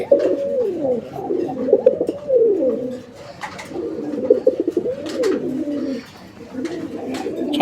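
Domestic pigeons of the Raj-Golla breed coo close by in repeated throaty, rolling phrases, loud and clear throughout with brief pauses between calls.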